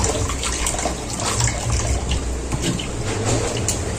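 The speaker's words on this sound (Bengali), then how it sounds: "আমি এটা জল দিয়ে ভালো করে পরিষ্কার করে ধুয়ে দেব" Running water pours steadily over chhana (cottage cheese) being rinsed clean of vinegar, a continuous close splashing wash with no pauses.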